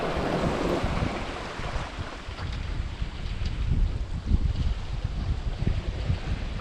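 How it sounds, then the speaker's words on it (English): Heavy ocean waves roll behind a small Contessa 26 sailboat crossing the Atlantic solo, swells about three meters high. A steady, loud wash of surf and rushing water mixes with wind buffeting the microphone throughout. "some of these waves are probably about 3 meters, and when they come behind us like this"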